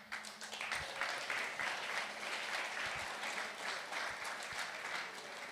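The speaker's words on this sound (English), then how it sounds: "Applause before the questions for Vita Yachts" Audience applause at a tech talk session of the Monaco Energy Boat Challenge, following a presentation on electric boats; steady, dense clapping from a crowd sustained throughout at moderate level.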